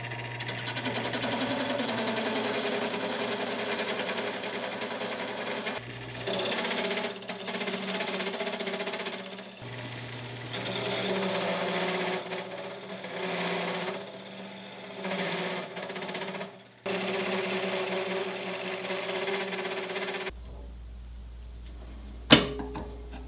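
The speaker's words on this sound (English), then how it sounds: "I'm going to drill a hole through the side all the way through" A drill boring a hole through the side of a gear for a shaft pin, a steady motor whine in long runs broken by short pauses, ending with a quieter hum and a sharp click.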